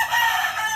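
A rooster crows loudly in a short, strained burst, heard alone without voices.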